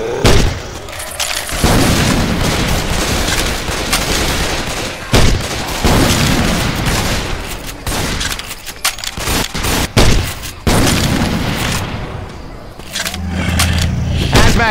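Rapid gunfire and heavy booms from a grenade launcher fill a chaotic firefight in the zombie shooter game Left 4 Dead 2, loud and dense throughout with scraping and clattering mixed in.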